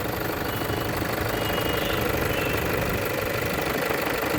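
A 2015 Toyota Fortuner 4x2 manual idles with its engine running in a steady, close diesel-like rumble and faint knocking, continuous throughout with no voices.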